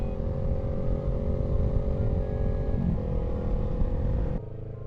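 A motorcycle fitted with an aftermarket exhaust idles with a loud, deep, steady rumble up close, then cuts down abruptly near the end.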